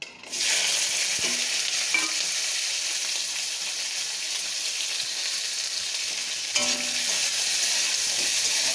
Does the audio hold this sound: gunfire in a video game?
no